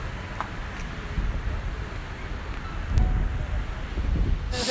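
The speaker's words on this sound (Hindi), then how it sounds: "थोड़ी देर बाद हवा चलने लगी" Steady wind blowing outdoors on a hot day as the weather turns, a continuous broadband rush with low rumbling gusts swelling around the middle and end, loud and close to the microphone with no talk.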